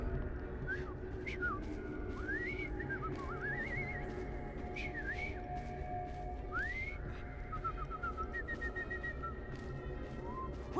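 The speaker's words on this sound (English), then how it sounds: "I've just learned to whistle." In Assassin's Creed Syndicate, a character whistles a halting series of rising and falling notes, some sliding, some in quick repeated bursts, over a steady low background hum.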